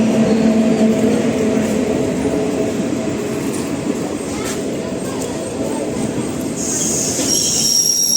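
A train moving off makes a loud, continuous rumble with wheel squeal and some rattling, while voices talk faintly in the background.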